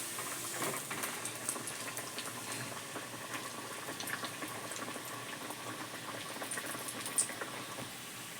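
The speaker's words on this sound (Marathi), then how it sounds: "बघा आपण स्लो गॅसवर तळायचे मधून पण शिजले पाहिजे" Green pea vadas deep-fry in hot oil over a low flame, a continuous soft bubbling sizzle with fine crackles and pops, close and steady with no talking.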